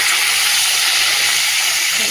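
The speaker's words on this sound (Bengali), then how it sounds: "পটলটা দিয়ে দিচ্ছি, হালকা করে একটু ভেজে নেবো পটলটা" Pointed gourd (potol), coated in salt and turmeric, frying in hot oil, giving a steady, dense sizzle and hiss that runs unbroken and fairly loud throughout.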